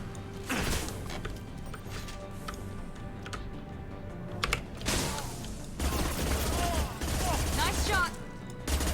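Gunfire in the sci-fi shooter Mass Effect 2: dense, continuous bursts of shots and mechanical clatter layered with game effects, loud and sustained, with brief speech mixed in.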